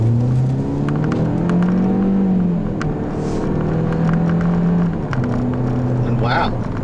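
A 2013 Ford Escape SE with the 1.6-litre EcoBoost four-cylinder accelerates on the road, its engine drone rising and falling steadily inside the cabin as someone speaks over it.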